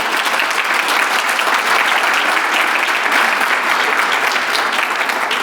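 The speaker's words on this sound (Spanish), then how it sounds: "Un fuerte aplauso" Loud, sustained applause from a crowd at a health summit panel, steady clapping throughout with no pauses or voices standing out.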